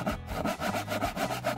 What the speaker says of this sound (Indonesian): Aku akan coba gergaji.